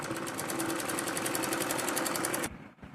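A sewing machine stitches a small girl's salwar in one steady, fast-running burst, loud and close, then stops abruptly near the end.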